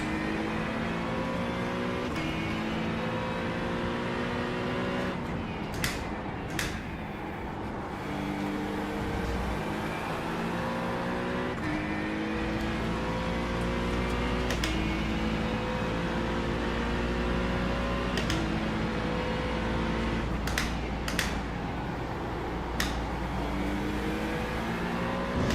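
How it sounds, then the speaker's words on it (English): Race car engine droning steadily through an IMSA endurance race at Watkins Glen in an NSX, with gear shifts stepping the pitch up and down, a loud near low rumble that deepens midway, and brief sharp clicks over it. "Faster car coming up quick."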